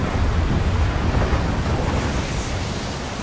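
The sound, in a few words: ocean surf breaking on the coast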